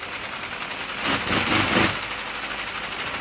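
A Lego inline-four vacuum engine with clutch, differential and five-speed gearbox runs with a faint, steady mechanical whir that briefly swells louder in the middle before settling back.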